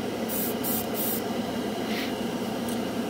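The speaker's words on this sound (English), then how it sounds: "Mr. Hobby airbrush." A Mr. Hobby airbrush sprays Gaia chrome paint in short hissing bursts, three quick close sprays followed by a couple of fainter puffs over a steady background hum.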